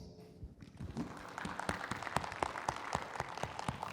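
An audience at an IELTS seminar applauds a teacher and his team coming on stage. The clapping starts scattered, then builds into steady, brisk handclaps from a crowd in a hall.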